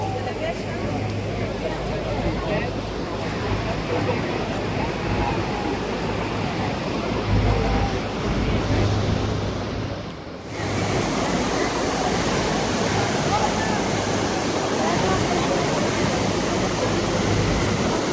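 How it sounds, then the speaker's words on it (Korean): A steady, heavy roar of rushing, falling water from Horseshoe Falls at Niagara Falls, Canada, fills the whole clip, with a brief dip partway through before the roar returns. "호스슈 폭포는 북미에서 가장 빠른 폭포입니다"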